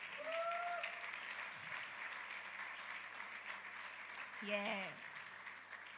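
Audience applause at an evening church conference, a steady wash of clapping running through the whole stretch, with a brief voice and a few tonal sounds rising over it.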